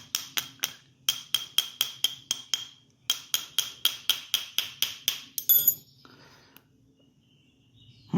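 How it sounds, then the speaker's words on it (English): Metal hammer taps on an Onan generator carburetor being loosened, a sharp rhythmic series of about twenty close, ringing strikes in quick bursts with brief pauses, ending in a softer rattle and faint handling noise. "Little tapping, she'll come off."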